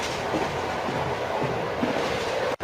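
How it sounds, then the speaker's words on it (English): Steady rolling rumble of a Thomas the Tank Engine video game train, James pulling trucks, running continuously at even loudness with a faint rhythmic clatter, then cutting off abruptly near the end. "the train rolling sound effect is just the same for James"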